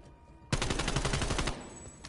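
A mounted gun in a shooter video game fires one continuous rapid burst of about a second, loud and close, standing alone with no talk over it.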